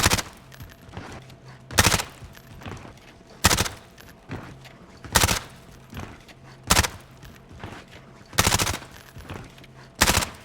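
Video game gunfire aimed at a wall: seven sharp bursts spaced about every one and a half seconds, loud and close, with a quiet hum between them.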